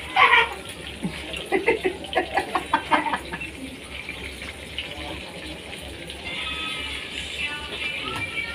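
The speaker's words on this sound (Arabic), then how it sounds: "الفلفل بيفرقع" Peppers crackling as they fry in a pan: a quick run of sharp pops and spatters over a sizzling hiss, then a steadier, softer sizzle.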